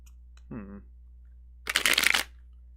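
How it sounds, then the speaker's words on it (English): A deck of cards is shuffled once in a quick, close riffle lasting about half a second, after a brief vocal sound and against a low steady hum. "Wow, Christy, these cards are not cooperating"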